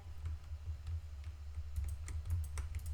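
A computer keyboard being typed on in quick, uneven bursts of sharp keystrokes, heard fairly close over a steady low hum, with no one speaking.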